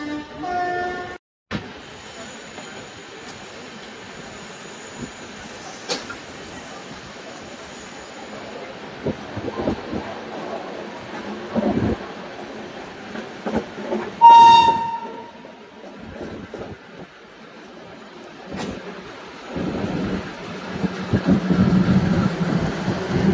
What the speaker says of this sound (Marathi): आपली मुंबई ते पुणा जर्नी तुम्हाला ट्रेन जर्नी दाखवतो